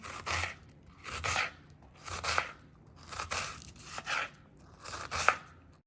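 A knife chops vegetables finely on a board in five evenly spaced bursts of rapid crisp cuts, close and clear, with quiet pauses between them.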